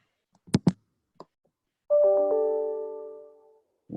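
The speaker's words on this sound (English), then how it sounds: "I heard a nice chime." A clear electronic chime rings out during an online video-call class, a bright sustained tone with a second note stacked just after, ringing and slowly fading, preceded by a few faint clicks.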